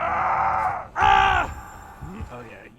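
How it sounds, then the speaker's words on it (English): Iron Maiden perk screams in the video game Dead by Daylight: a sustained anguished scream, then a second loud, short scream, trailing into quieter strained vocal groans. "Here's an example of what the scream sounds like from the killer and the survivor side."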